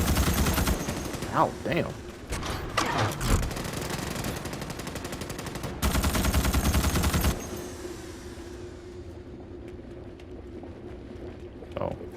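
Enemy gunners in the Starship Troopers: Extermination game fire heavy, rapid bursts close by, with a dense volley in the middle that then thins to a quieter rumble, while a player groans and talks over it.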